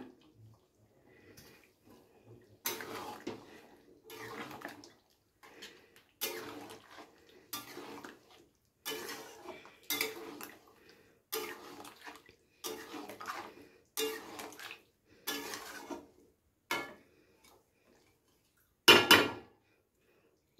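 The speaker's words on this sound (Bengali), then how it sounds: "টক দইটা দিয়ে আবারও খুব ভালো করে মিশিয়ে দেব।" Stirring yogurt into chicken darbari curry in a pot: a spoon scrapes and clinks against the metal in repeated strokes roughly every second, with a louder clatter near the end and no voices.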